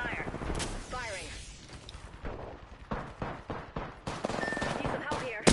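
Rapid gunfire from a video game firefight, bursts of close shots and machine-gun fire cracking in quick clusters, with voices talking over the shooting.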